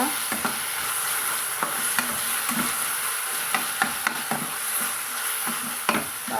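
Garam masala is stirred into tomato rice in a frying pan, with steady sizzling and a series of scraping, tapping spoon strokes against the pan, close and clear.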